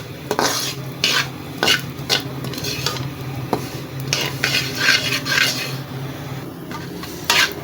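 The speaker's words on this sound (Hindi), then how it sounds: "खशकाश भी भुनी जा चुकी है।" Poppy seeds roasting in a little ghee in a pan, with a spoon scraping and stirring in irregular strokes over a soft, steady sizzle, close and moderately loud.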